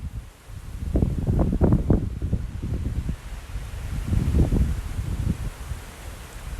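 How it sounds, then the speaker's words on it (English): Gusty wind rumbles against the microphone in uneven surges in an open park, with a soft rustle of leaves in the background and no talking. "I'm in the shade right now in some open park and it's really windy."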